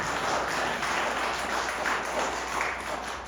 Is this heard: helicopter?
no